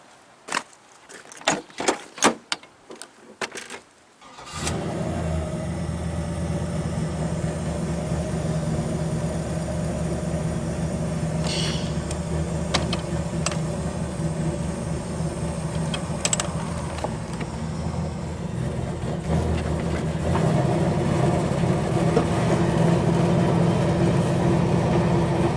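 A cammed 6.0 LS-swapped Chevy Caprice Brougham: a few clicks and cranking noises, then the engine fires after about four seconds and settles into a loud, steady, lumpy idle close by, rising slightly louder toward the end.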